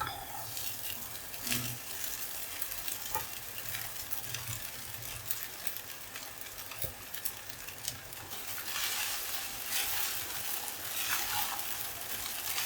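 Sabudana (tapioca pearls) added to roasted potatoes in a pan, with a steady close sizzle of frying and occasional scraping and clinks as the mixture is stirred, continuous throughout.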